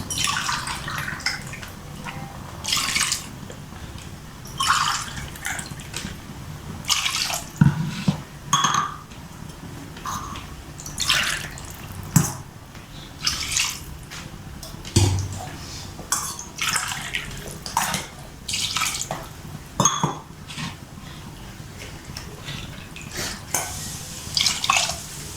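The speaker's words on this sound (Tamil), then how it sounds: "ஆறு கிளாஸ் தண்ணி நான் ஊற்றிருக்கேன்." Water pours and splashes in short, repeated bursts into a pot for mutton biryani, with occasional clinks of a vessel in a quiet room.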